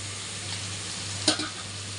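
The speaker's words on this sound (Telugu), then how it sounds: "ఒక గరిట పెరుగు వేస్తున్నానండి" A ladle of curd dropped into sizzling chicken biryani masala, a short wet splat and hiss rising briefly over a steady, close frying sizzle with a low hum beneath.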